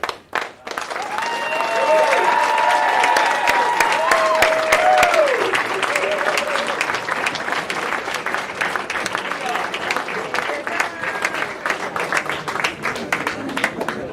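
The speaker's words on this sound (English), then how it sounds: "Please join me in applauding our Air Force's newest leaders." Audience applause at an Air Force Airman Leadership School graduation ceremony, a full sustained wash of clapping from a large crowd, with cheering voices and whoops rising over it early, then steady clapping tapering gradually.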